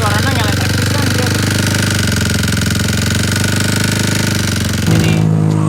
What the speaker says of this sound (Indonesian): Jadi mesinnya tuh kasar banget.